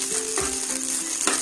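Green chillies frying in a pan over a low flame, a close, loud hissing sizzle with a couple of brief stirring scrapes, no one speaking.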